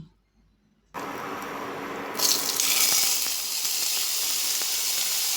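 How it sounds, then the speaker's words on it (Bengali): Pieces of teasel gourd (kakrol) drop into hot oil in a wok after a brief silence, and a sudden hissing sizzle jumps up and then grows louder and fuller as the frying continues close by. "এবার কড়াইতে তেল গরম করে কাঁকরোলগুলো দিয়ে দিচ্ছি।"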